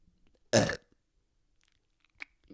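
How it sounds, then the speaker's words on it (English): A single loud, close burp rises abruptly and dies off after about a quarter second, then there is near silence and a faint short sound afterward. "It's been a while since I burped on here."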